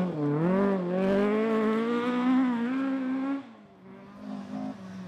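A rally car roars past close by, its engine note rising and holding strong before dropping away as it moves off. A fainter engine sound follows.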